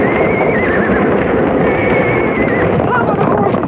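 Several horses whinny and neigh in panic on a homestead in a Western, their cries rising over a dense, steady roar with speech-like noise mixed in.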